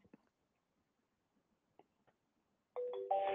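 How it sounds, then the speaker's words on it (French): Incoming call ringtone from the 3CX phone app starts near the end, a steady electronic ring tone rising out of near silence after a few faint clicks. "un appel entrant de François"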